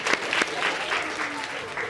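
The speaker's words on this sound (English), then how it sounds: "Round of applause for that." Audience applause at a speaking event in Chattanooga, Tennessee, a short burst of many hands clapping nearby that fades quickly, with a few sharper claps near the start.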